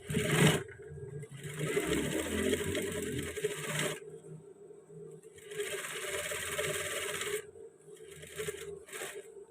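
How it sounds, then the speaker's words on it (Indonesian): A sewing machine runs two long bursts while stitching a trouser seam twice, a steady close whirring hum that stops briefly between passes, with no talk over it. "Nah, ini kita jahit 2 kali."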